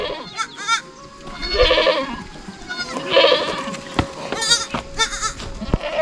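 Goats and lambs of a large flock bleat in a forest, several distinct calls near and far, overlapping at irregular intervals.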